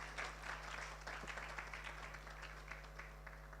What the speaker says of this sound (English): Please give Jide a big round of applause.